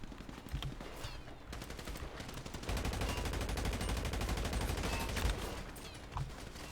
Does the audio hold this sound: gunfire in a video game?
yes